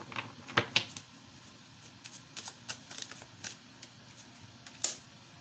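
Tarot deck shuffled quietly, producing soft scattered taps and flicks at an uneven pace with a few louder clicks, close by over a low steady room hum.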